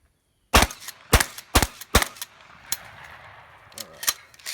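Remington 870 pump shotgun fired outdoors during a review, giving a series of sharp, loud blasts in uneven rhythm, about seven shots over a few seconds, each ending in a brief ringing decay.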